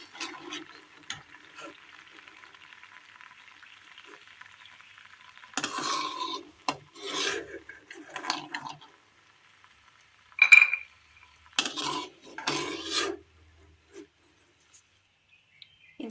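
Fried pieces scooped from shallow oil in a pan on low heat: a faint sizzle underneath, then several close, brief bursts of scraping and stirring separated by quiet gaps.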